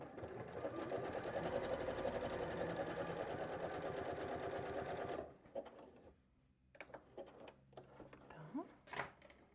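Bernette b38 sewing machine running a classic wide zigzag stitch, a loud steady rapid mechanical whirring for about five seconds, then stopping into quieter scattered handling clicks and faint rustles.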